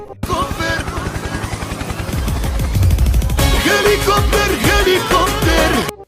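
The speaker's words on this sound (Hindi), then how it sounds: "गरीब लोग जुगाड़ लगाकर अपना ही हेलीकॉप्टर बना लिया करते हैं" A homemade jugaad helicopter running: a loud, continuous rapid chopping and mechanical clatter with dense rhythmic pulses that grows harsher midway, close and alone for about six seconds.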